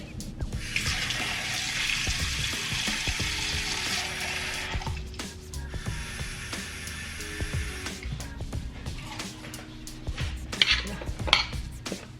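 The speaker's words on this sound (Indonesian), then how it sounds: "Terus kita pakai air dingin" Cold water runs from a kitchen tap, a steady broad hiss lasting several seconds, then pausing and resuming, with dishes and utensils clinking nearby as it flows.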